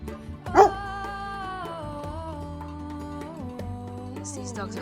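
Territorial shepherd dogs in the Albanian mountains barking once sharply, then growling and whining in a long, steady sustained tone close by.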